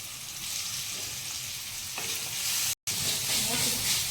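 Shallots, garlic and ginger fry in a pan of oil, giving a steady, close hiss of sizzling with light stirring scrapes and a brief cut to silence partway through.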